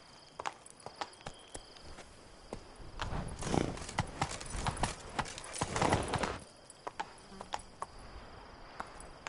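Horse hooves clip-clop in the Witcher 3 video game, with a steady walking rhythm of crisp, close hoofbeats that swells to a denser trot mid-clip, then eases back to a quieter walk.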